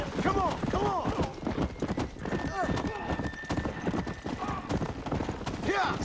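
Horse galloping in the video game Red Dead Redemption Undead Nightmare: rapid, steady clip-clop of hooves with occasional whinnies and a faint gunshot-like crack, while someone talks over the game sound.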